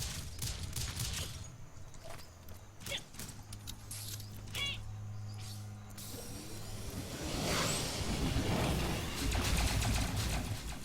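Repeated gunshots from the side-scrolling video game Rise and Shine crackle in quick bursts over a busy layer of game music and effects, sitting fairly close and steady in loudness throughout.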